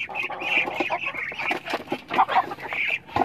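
A flock of native chickens and roosters cluck and squawk close by in overlapping bursts, with a voice speaking among them.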